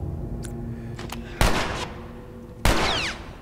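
Two loud gunshots ring out in The Last of Us Part II, each a sharp crack with a short echoing tail, spaced about a second apart against a low ambient game backdrop.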